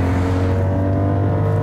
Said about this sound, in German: Wenn er will, dann dreht er auch ordentlich hoch, aber das ist schon, oh, ist schon ein netter Motor.